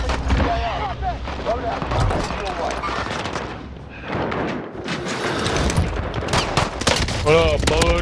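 Rapid gunfire crackles through a battle royale shooter match, bursts of automatic fire and scattered shots mixed with explosions, loud and continuous under excited team voice chat.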